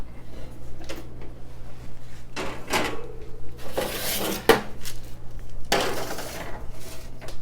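A tray of brown butter rosemary pull bread goes into the oven with clanks and metallic rattles of the pan and oven door and rack. Bursts of noise sit close against a steady low hum.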